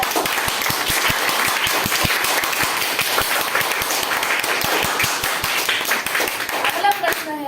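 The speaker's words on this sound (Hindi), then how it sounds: "जोर से तालियां हो जाए।" An audience applauds an interviewee answering questions, with dense, continuous clapping that stays loud and full for about seven seconds. Voices mingle with the clapping.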